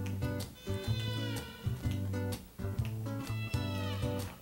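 Children imitate cat meows as playful rebel kittens in a puppet show song, with repeated meowing voices over a tuneful musical accompaniment.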